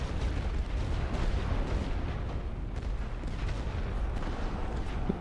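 Heavy artillery pounds a trench in The Great War: Western Front, a World War I strategy game. Dense, continuous rumbling blasts and booms merge into a loud, unbroken roar with no talking.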